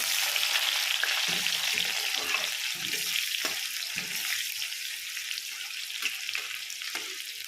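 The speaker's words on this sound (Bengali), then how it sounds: "পেঁয়াজটা ভাজা হয়ে গেলে মশলাটা দিয়ে দেবো" Steady, bright sizzle of onions and cumin seeds frying in hot oil, with a few soft scrapes and taps of stirring now and then.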